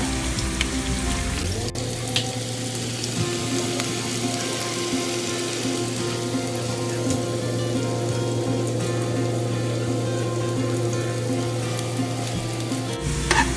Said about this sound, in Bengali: পেঁয়াজ ভাজা মোটামুটি ডান।